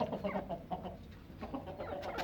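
A hen clucking in a coop alongside another laying bird, soft repeated clucks in an irregular rhythm, close but faint, with a few sharper calls near the end.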